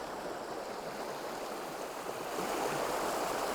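River water flowing over and around stepping stones, a steady close rushing and babbling wash that holds constant throughout and grows slightly louder toward the end, with no voices.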